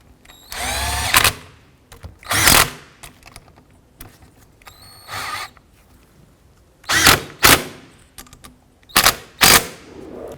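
A power tool tightens the windshield wiper motor bolts on a 2001-2007 Ford Escape, running in several short loud bursts of whirring with brief pauses between them, close up and with no talking.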